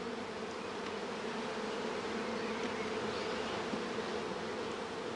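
A dense, steady buzz of many bees flying around a hive entrance, humming together, continuous and full, with no voices.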